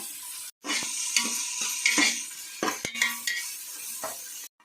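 Onions frying in a pan until golden for a country-chicken biryani, with soft sizzling under repeated clinks and scrapes of a metal spoon stirring against the pan.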